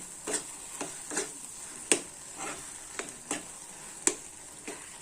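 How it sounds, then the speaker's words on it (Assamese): Taro pieces sizzle steadily in a frying pan while a utensil stirs them, giving about a dozen evenly spaced scraping strokes close by over a constant hiss, with no talking. "এয়া কচুখিনি মই অকণমান লৰাই দি আছোঁ।"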